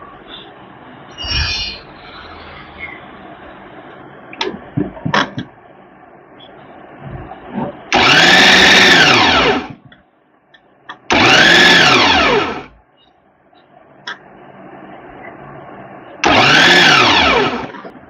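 Drumstick leaves being ground in a mixer grinder, three loud whirring bursts of a few seconds each, separated by quieter pauses with faint clinks and handling noises.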